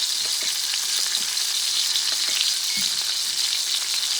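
Steak sizzles steadily in a hot cast iron skillet, a dense, even crackle of frying fat holding at one level throughout, close up with no talk.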